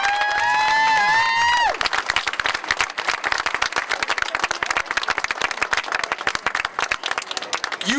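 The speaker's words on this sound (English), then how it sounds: "Let's give them a big round of applause." A crowd at an American Heart Association Heart Walk applauds heart disease survivors. A short tonal sound opens, then lively clapping follows with scattered cheers, continuing irregularly to the end.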